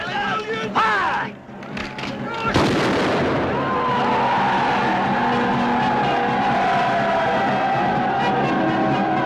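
Soldiers of a company fire a volley on command in a 1958 film set during the French Revolution, one loud crashing burst after shouted orders, followed by sustained rumbling crowd noise.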